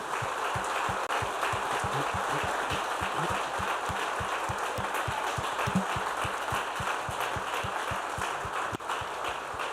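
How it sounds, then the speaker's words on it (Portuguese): A church congregation claps steadily and rhythmically in unison, dense and continuous for the whole stretch, with no voices standing out above it. "dê um aplauso ao Senhor."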